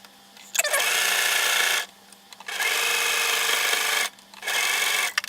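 Sewing machine stitching a quilted bag, three loud close bursts of whirring stitching separated by short pauses.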